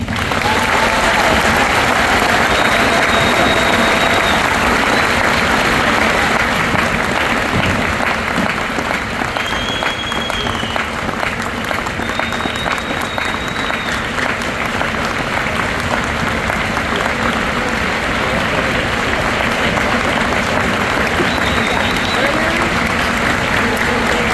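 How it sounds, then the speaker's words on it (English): Loud, sustained applause from a large graduation ceremony crowd runs for over twenty seconds, a continuous roar of clapping with scattered whistles and cheers, and some voices mixed into the noise. "Please join me in offering a heartfelt round of applause to a true pillar of our Milan community, Superintendent Gearbaugh."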